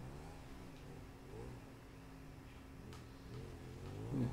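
A motorcycle engine revs in a BMX video game, a steady mid-pitched drone that swells and climbs near the end, with faint ticking in the background.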